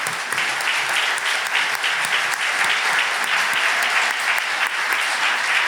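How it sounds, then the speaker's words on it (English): An audience at an annual community foundation meeting applauds, with loud, sustained, dense clapping filling the room from start to finish. "Would our board and staff please stand if you're able so we can give you a round of applause."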